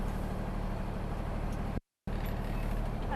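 A Class A commercial truck pulls forward during an air brake test, its engine giving a steady low rumble up close, cut by a brief gap of silence before the droning resumes.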